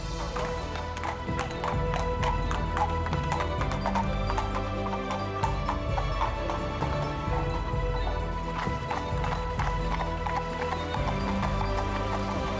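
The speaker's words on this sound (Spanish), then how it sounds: "tenemos que ir a dar de comer a los caballos" Horses clip-clop in a steady, busy rhythm of hoof strikes close by, with an occasional neigh breaking through the continuous trotting.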